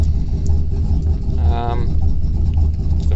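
Truck engine with TFI ignition idling, a steady low rumble close to the recorder, with a brief rise in the middle and no talking over it.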